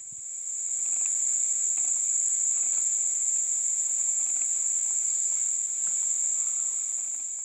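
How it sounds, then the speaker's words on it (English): Dense, continuous chirping of crickets and other insects on an early morning near caverns, a steady high-pitched shrill trill held at an even level throughout, with faint scattered clicks beneath and no voices. "the bug sounds are pretty intense, aren't they?"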